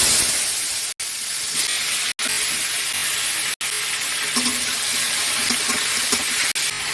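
Pieces of ash gourd sizzle in hot mustard oil over a high flame, a loud, continuous frying hiss broken by a few abrupt sharp clicks.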